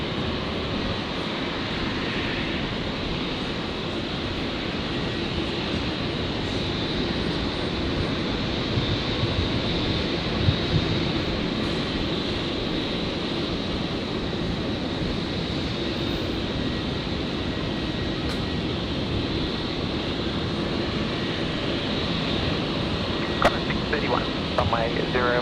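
An airplane takes off from runway 01 left at Brisbane Airport, a steady broadband jet roar heard at a distance with wind, while voices talk over it.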